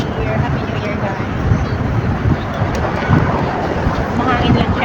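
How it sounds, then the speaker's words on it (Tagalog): Steady wind gusting into the microphone outdoors, a broad rushing roar with voices faintly underneath. "Mahangin lang siya pero hindi siya gaano malamig."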